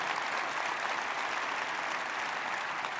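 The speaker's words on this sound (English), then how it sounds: "can you give the team a round of applause regardless" Keynote audience at a large tech conference applauds, a dense, even wash of clapping that sounds somewhat distant and fairly quiet, with no talk on top.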